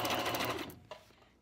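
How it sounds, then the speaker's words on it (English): A sewing machine stitches through a wig laid on a piece of paper, a short burst of fast, buzzing running that stops abruptly, followed by a faint click. "I'm just teaching you guys how to sew a wig, and I'm doing it on a sewing machine"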